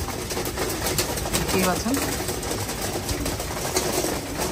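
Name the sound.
female racing pigeons cooing and eating in a loft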